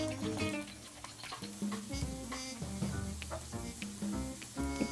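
Elephant yam slices frying in oil in a pan, a faint crackling sizzle with scattered pops and hissing bursts, no voices.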